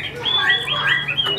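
Caged hwamei songbird singing a lively run of clear whistled phrases, close and fairly loud, with faint background noise underneath.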